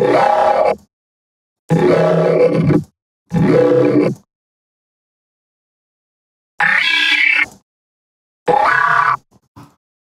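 Several bursts of deep, buzzing synthesized vocoder bass from a Patcher setup, each lasting about a second, separated by silences.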